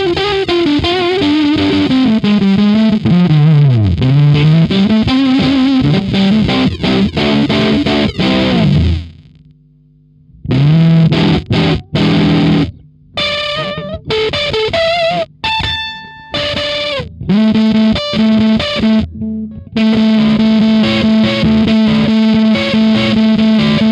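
Electric guitar through a Teaching Machines Fuzzbillion fuzz pedal, playing loud, heavily distorted notes and chords with glitchy stuttering cut-outs and abrupt gaps, ending on a sustained fuzzy tone; no voices.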